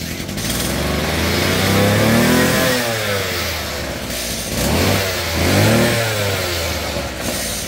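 A brush cutter with a broken gear case is revved hard, its loud engine droning steadily with repeated rising and falling surges in pitch, close by and without talk.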